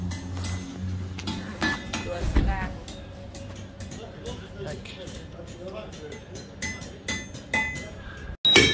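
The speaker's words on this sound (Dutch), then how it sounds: "Kijk, we zijn dus even bij de smederij naar binnen gegaan." Clinks and metallic knocks ring out inside the museum smithy at Elburg, a blacksmith's workshop, scattered over several seconds amid room noise, with a sharper bang near the end and people talking in the background.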